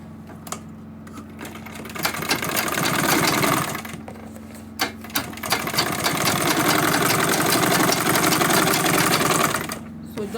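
A sewing machine runs in bursts as a bag is stitched, with a short stutter, a pause near four seconds, then a long steady whirring run; the motor hum is loud and close.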